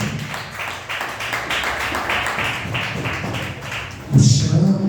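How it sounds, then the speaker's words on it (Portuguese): Rhythmic clapping in a church congregation, steady unison hand claps in a regular beat, followed by a louder burst of sound near the end. "Mais palmas para Jesus."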